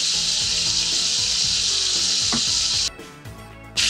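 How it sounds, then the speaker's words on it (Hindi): Garlic and chicken sautéing in a hot pan, giving a loud, steady hiss of sizzling close up with faint stirring clinks, easing briefly near the end before flaring up again. "अब हम गार्लिक को चिकन के साथ 1-2 मिनट सौते करेंगे।"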